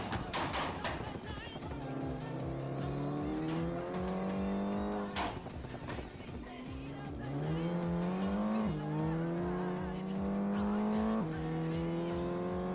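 Race car engine revving hard with rising and falling gear pulls, punctuated by sharp clutch kicks and squealing tires through corners, loud and continuous for the whole stretch with a voice talking over it.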